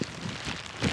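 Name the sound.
heavy rain falling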